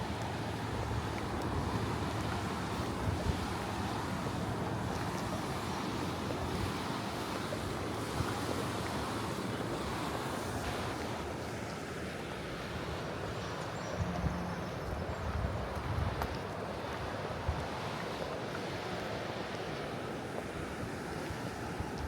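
A river rushes steadily beneath a small trail bridge on the Appalachian Trail, a constant, even wash of flowing water with no voices.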